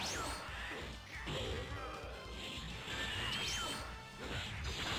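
Heavy smash attacks land in a Dragon Ball fighting game match, a dense, loud stream of crashing impacts and whooshing energy effects with barely a pause.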